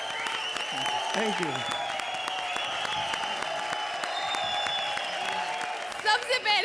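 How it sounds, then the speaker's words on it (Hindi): A studio audience at a televised comedy show claps over music and chatter, the applause running steadily under tonal background sound before a brief spoken thanks near the end. "जोरदार तालियां बजाओ, खत्म करो, घर में जाओ।"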